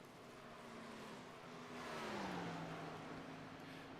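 Race cars in a sim racing game at Charlotte Motor Speedway drone quietly at a distance, the engine tone bending slightly as a car passes, faint and without talk.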